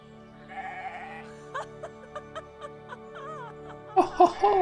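Goats bleat in a farming video game, several short nasal calls in a loose series with a louder, wavering burst near the end, alongside a synthetic tonal background.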